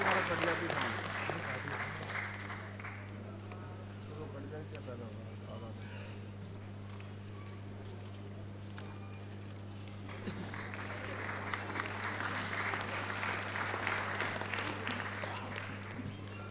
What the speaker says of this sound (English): Let's have a huge round of applause while we welcome the panelist on the stage